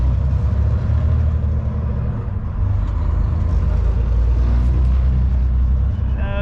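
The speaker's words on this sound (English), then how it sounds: "Come on, full throttle. This is foot to the floor." A Euro-style day cab truck engine pulls hard at full throttle, a loud, steady low rumble that holds for several seconds with a faint rising whine near the end.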